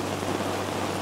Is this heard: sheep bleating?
no